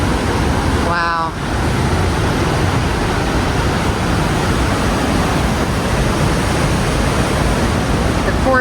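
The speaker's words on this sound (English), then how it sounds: "the steady roar of the waterfall can be heard year-round at Box Canyon" Waterfall at Box Canyon in Ouray, a loud, steady, broadband roar that fills the whole stretch without letting up, with a brief voice near the start.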